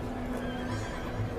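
A horse whinnies on a historical drama set, a single neigh sitting over a low steady background hum with faint hoof clatter, no talk.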